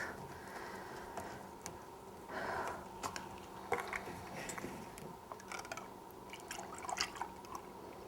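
Six cups of whole milk poured into a pan in a home kitchen, a quiet, continuous liquid trickle with scattered small drips and light ticks, heard alone with no talking.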